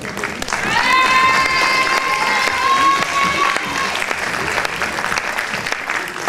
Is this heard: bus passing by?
no